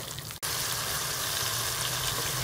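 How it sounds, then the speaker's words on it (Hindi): Spice masala sizzling in hot oil for Irani chicken karahi, a steady close hiss after a brief drop near the start, with no talk. "सारे मसाले शामिल करके इसको अच्छी तरह से मिक्स करके हम भून लेंगे।"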